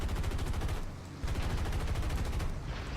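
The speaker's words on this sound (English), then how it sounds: "so start shooting now" Aircraft machine guns firing in War Thunder from a PBY-5A flying boat, a dense continuous rattle of rapid bursts with a brief pause near the middle, loud and close over steady engine drone.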